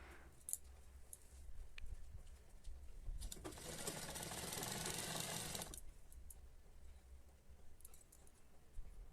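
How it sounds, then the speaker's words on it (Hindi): Sewing machine stitching a patiala salwar with a firm seam: a steady mechanical whirring run of about two and a half seconds in the middle, with softer handling clicks before and after and no talk. "यहाँ पर मैं पक्की सिलाई देने वाली हूँ"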